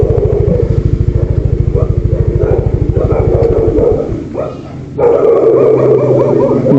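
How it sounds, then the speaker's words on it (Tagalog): Several dogs barking in a rapid, continuous volley at night while a driver waits for a pickup, loud and close, with a motor's low rumble beneath; the barking eases briefly before a louder burst of noise returns. "nag-ingay po mga aso"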